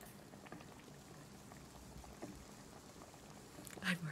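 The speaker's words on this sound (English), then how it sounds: "The water's already boiling." Water boils in The Rewinder, a soft steady bubbling hiss at low level with a brighter burst near the end, no talk over it.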